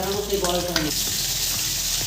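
Fish frying in a pan at home, a dense steady sizzle throughout, with some clinking and a brief harmonic tone in the first second.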